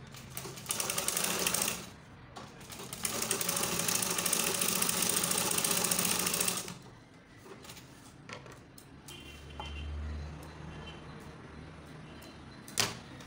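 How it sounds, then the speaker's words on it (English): A sewing machine stitching a seam on a baby girl's halter-neck peplum garment, loud steady whirring runs in two long bursts, then quieter handling sounds and a soft low hum. "So you sew it like this till the back."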